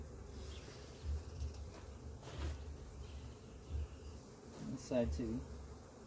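Honey bees buzz steadily over an inner cover during a split hive inspection in April, a low, continuous hum running beneath a man's close, quiet talking.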